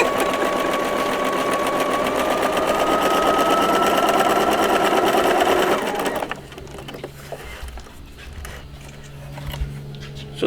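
A sewing machine stitches a seam in a steady, loud, continuous whir with a rhythmic needle patter for about six seconds, then stops, leaving quieter handling noises.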